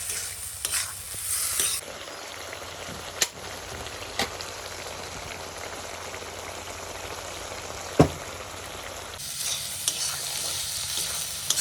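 Squid stir-fried with salt sizzles steadily in a hot pan, with a few sharp clicks and scrapes from a utensil stirring the pieces.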